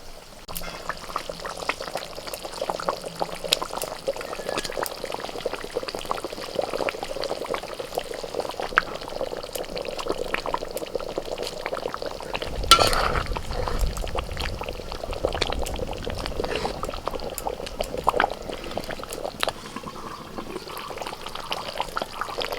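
Katla kalia gravy bubbles steadily in a pan as fried katla fish pieces are dropped in one by one, with a soft continuous simmer, a thump of added pieces midway and no voices.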